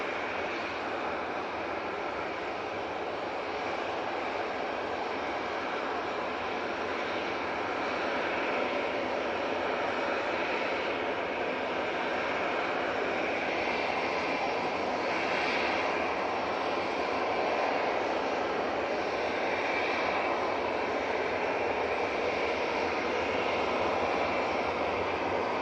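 Aircraft at Manchester Airport lining up on the runway centre line, a steady distant jet engine whine and roar holding level throughout, with no talk.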